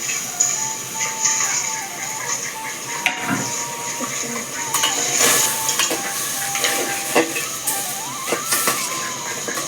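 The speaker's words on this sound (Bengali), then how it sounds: "তাতে একটু জল দিয়েছি, তারপরে চিনি দিয়ে দিয়েছি। ভালোভাবে সেটাকে নেড়ে নেব।" A spoon stirs water and sugar in a pot on a gas stove, with scraping clinks against the metal over a steady burner hiss, close and moderately loud.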